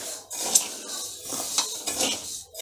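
Roasted flour for Malvani vade slides and scrapes from a metal pan onto a cloth sheet, with soft rustling, a few light metallic clinks and scraping strokes close by, no talking.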